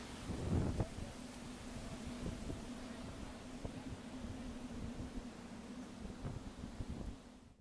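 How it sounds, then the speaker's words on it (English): Steady roaring wind with buffeting gusts and low rumble throughout, a heavy burst early on, no voices. "capturing the ferocious gusts on film"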